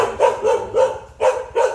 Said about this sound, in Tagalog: Tinahol pa ng aso.